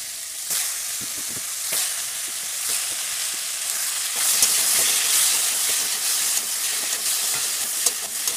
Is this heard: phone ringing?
no